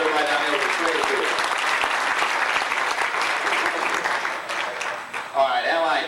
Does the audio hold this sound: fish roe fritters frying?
no